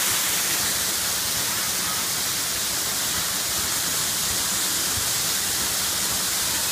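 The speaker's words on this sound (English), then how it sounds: "Cedar Creek Falls" Cedar Creek Falls in Cascadia State Park, Oregon, roars as a steady, dense wash of falling water, close and loud throughout with no pauses or voices.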